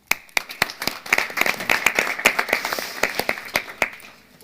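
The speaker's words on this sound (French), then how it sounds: "Donc, aussi, applaudissons." A small audience at an evening talk on solar and wood heating gives brisk applause, with distinct individual claps rising quickly, then thinning out toward the end.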